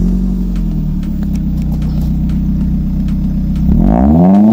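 A Maruti Zen Carbon with a modified exhaust idles close by with a deep, throbbing burble, then revs sharply near the end as the note rises and grows louder.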